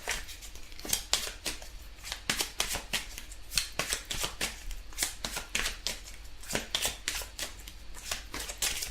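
Tarot cards are shuffled by hand in rapid, repeated riffling strokes, crisp papery snaps in an irregular rhythm, close and steady with no talking.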